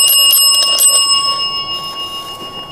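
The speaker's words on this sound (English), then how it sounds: "If you touch it, it will just make a normal bell sound." A bell device near a cross rings with bright, metallic tones, several quick strikes at first and then a sustained, fading ring that carries on alone.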